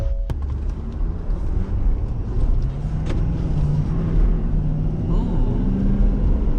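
A 2019 Ford F250 pickup with a 6.7 liter turbo diesel engine accelerates, its loud steady engine rumble and rising drone heard from inside the cab, with some faint talk underneath.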